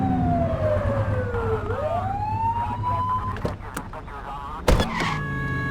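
A police car siren in The Precinct video game wails with a sweeping up-and-down tone over steady vehicle engine noise. Sharp clicks and a loud burst of sound follow, with electronic beeps near the end.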